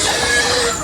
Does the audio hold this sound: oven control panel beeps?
no